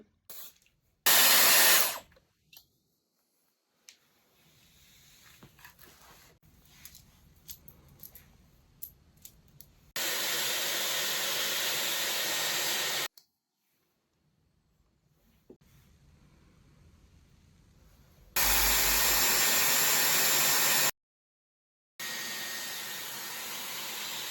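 A Dyson Airwrap hair styler blows air while curling long hair, roaring in loud steady bursts of a few seconds each, separated by silences and quieter handling noises.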